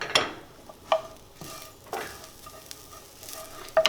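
A pot of beans boils on the stove with a soft, continuous bubbling hiss, broken by a few sharp spoon scrapes and clinks against the pot.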